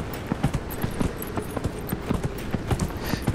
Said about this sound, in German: Wir reiten mal den Strand entlang